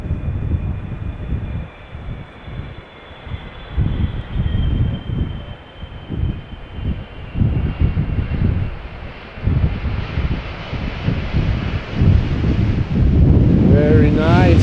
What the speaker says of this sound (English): KLM flight 758 arriving from Panama City